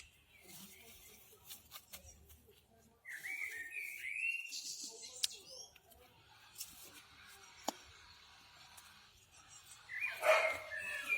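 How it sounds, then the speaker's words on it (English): A neighbour's dog barks in the distance in a garden setting, a few faint scattered barks mixed with bird calls and whistling, quiet against low background noise. "There's the neighbour's dog going."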